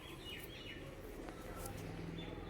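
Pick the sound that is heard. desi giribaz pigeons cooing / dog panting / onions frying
desi giribaz pigeons cooing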